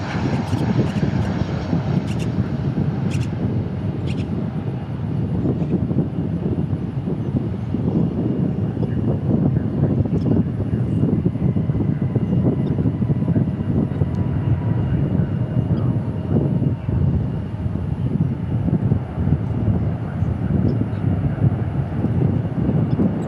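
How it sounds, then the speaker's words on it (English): A Lufthansa Airbus A340 departs from the east side of DFW Airport, its four engines making a loud, continuous low-heavy roar with gusty buffeting that stays strong for the whole stretch. "The A340 departing east side,"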